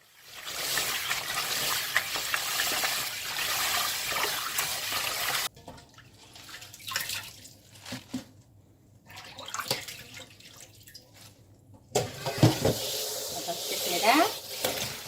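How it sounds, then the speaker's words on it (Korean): Spinach is washed under running water, with a steady rushing tap stream and splashing that drops away midway to quieter handling and sloshing, then resumes strongly near the end. "시금치는 깨끗하게 씻어서 데칠 거예요."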